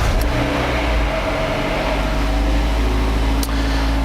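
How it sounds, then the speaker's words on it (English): A 2009-2011 Mazda 6 four-cylinder engine idles after an oil change with a steady low rumble and mechanical hum, running continuously and close by. "All right, so we start the engine"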